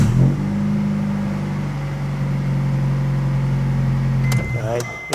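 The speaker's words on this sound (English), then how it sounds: "So let's start the vehicle up." A 1995 Mitsubishi car with a battery that keeps dying and an alternator not charging runs at a steady idle for several seconds, a constant engine hum that stops near the end, followed by a few clicks.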